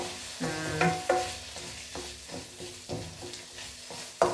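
Sliced onions fry in a pan while being stirred, a soft sizzle broken by close, irregular scrapes and taps of the spoon.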